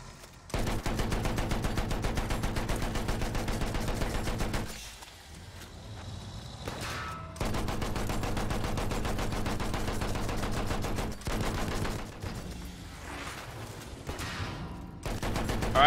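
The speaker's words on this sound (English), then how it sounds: "F2 I believe is going to be the main cannon. We can actually blow holes in these walls here." A tank's turret guns in Battlefield 1 fire long, steady rapid-fire bursts, separated by brief pauses, loud and close with a mechanical rattle.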